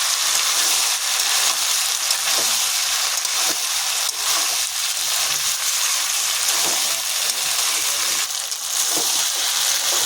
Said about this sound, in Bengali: এবার মটরটা দিয়ে দেবো মটরটা দিয়ে ভালো করে নাড়াচাড়া করে নেব